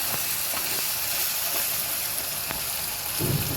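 Drumsticks (sajna) cooking in a pan, a steady close sizzle with occasional scrapes as they are stirred and coated, and a brief louder clatter near the end, without talk.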